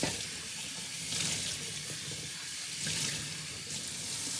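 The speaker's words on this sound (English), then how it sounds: "rinse it until it's completely clear" Cloth dyed with sappanwood (Eastern Brazilwood) is rinsed under a running tap, with a steady, close rush and splash of water throughout.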